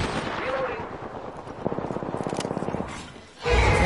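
Rapid gunfire in Apex Legends, a fast string of evenly spaced shots over dense battle noise, followed by a loud rising burst at the end.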